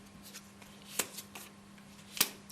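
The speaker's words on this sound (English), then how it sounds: "So flip 2 cards." Playing cards flipped onto a table during a Malifaux tabletop game, two or three crisp snaps close by over a faint steady hum.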